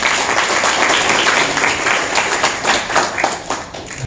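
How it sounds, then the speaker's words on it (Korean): An audience at an indoor ceremony for a fishing association's presidential inauguration in a convention wedding hall claps in sustained, dense applause, loud and close, fading slightly toward the end. "다시 큰 박수 한번 주십시오"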